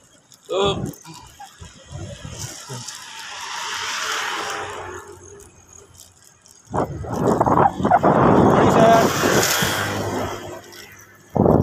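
Dogs in a Philippine subdivision street bark in short sharp bursts, one close bark at the start and then a louder cluster later, with passing traffic and wind noise between them.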